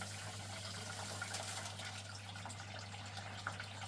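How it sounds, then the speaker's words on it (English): Water rinses fine black sand across a textured gold prospecting mat, giving a steady, close wash of running water with a low constant hum beneath it. "you can see the black sands just all rinsing away, washing away."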